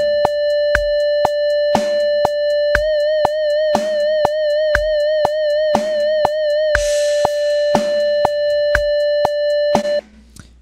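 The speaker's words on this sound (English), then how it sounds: "hear what vibrato sounds like, no vibrato, vibrato, no vibrato" Simulated guitar tone repeatedly switches between a steady pitch and an even, mathematically regular vibrato, sounding over a steady clicking pulse; close and loud, no voices, ending abruptly after about ten seconds.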